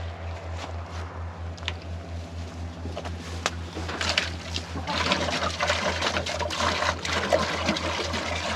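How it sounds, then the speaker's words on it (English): Water poured out for backyard laying hens, a steady trickling pour that grows louder and splashier toward the end, with a low droning hum underneath. "let me give them some water first"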